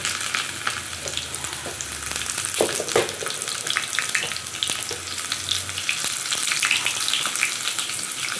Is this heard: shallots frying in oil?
yes